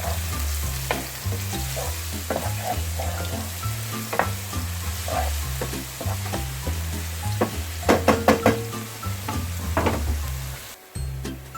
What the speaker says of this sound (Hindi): ये लहसुन अदरक का जो है पेस्ट ये भी मैं डालने लगी हूँ